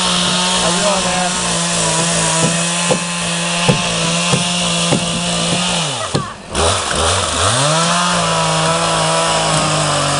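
At a canoe-building camp a chainsaw runs loud and close, holding a steady drone with brief cutting bursts, then revs down and back up midway before settling again.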